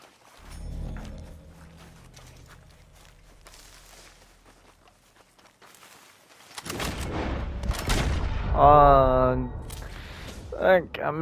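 A burst of gunfire in a shooting video game arrives after a quiet stretch, loud and rapid in the second half, with a voice speaking over the shots.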